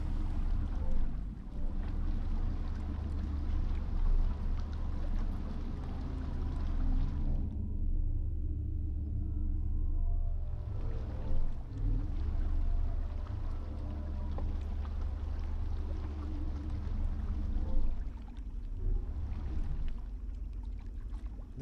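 Boat motoring across water in the video game Echoing Eye, a steady low engine drone with washing water that runs continuously, briefly thinning midway before resuming.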